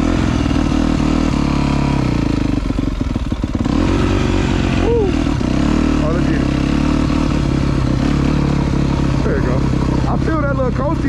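A Yamaha YZ250F dirt bike engine drones loudly and continuously as it is ridden, up close with shifting pitch as it revs, while a voice talks over it.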